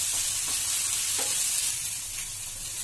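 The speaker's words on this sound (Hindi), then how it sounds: "बस सॉटे करना है" Onion, green chilli and raw paneer sauté in a pan with a constant close sizzling hiss, plus a few faint stirring scrapes, with no voices.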